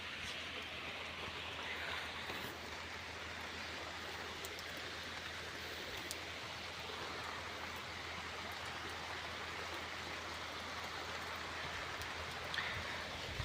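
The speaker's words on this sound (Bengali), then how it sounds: "আজকে কিন্তু বৃষ্টি হইতেছে" Steady, light rain falls in Chuadanga district, Bangladesh, a continuous soft hiss of drops spread evenly throughout, fairly faint with no talking.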